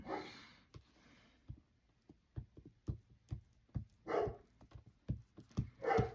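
Several sharp dog barks ring out in an irregular series, close and fairly loud, with brief quiet gaps between them.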